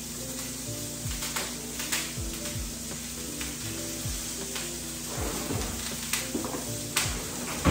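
Herbs and about a tablespoon of butter sizzle steadily in a hot pan, a continuous close frying hiss punctuated by scattered pops, scrapes and occasional clinks of a utensil against the pan.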